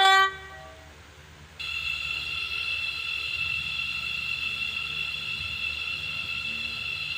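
A passenger train on the Leighton City route in the Stepford County Railway game sounds a brief horn, then runs on with a loud, steady high electric whine over a low rolling rumble.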